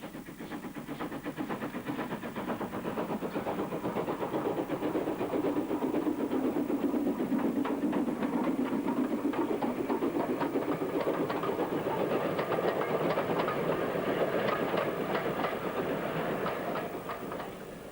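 A train rolls along steadily for a long stretch, engine rumbling under a continuous rhythmic clatter of wheels over rail joints, fairly close and unchanging in loudness.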